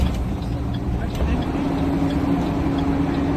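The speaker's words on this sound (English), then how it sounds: "That engine brake sounds so good." A deep, steady bus engine roar with a low droning hum that rises slightly as the engine brake works; faint voices mix in underneath.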